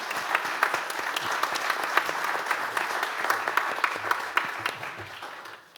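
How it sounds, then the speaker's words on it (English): Steady applause from a crowd, many hands clapping together for several seconds before gradually fading at the end. "please join me in a round of applause"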